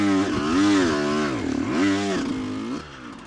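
Motocross bike riding out onto an abandoned dirt track, its engine revving up and down in two swells with a buzzy, harmonic-rich tone, moderately loud and close.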